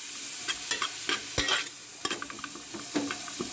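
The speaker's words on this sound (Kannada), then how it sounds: "ಈರುಳ್ಳಿ ಸ್ವಲ್ಪ ಬ್ರೌನ್ ಆಗೋ ತನಕ ಫ್ರೈ ಮಾಡ್ಕೊಳ್ಳುವ" Onions frying in a pan for veg biryani, with a steady sizzle and frequent scraping strokes of a spatula that stand out close and clear, with no talking.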